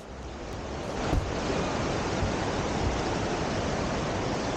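A waterfall rushes in a constant, dense roar close by, filling the scene with steady hiss, with a few faint knocks underneath.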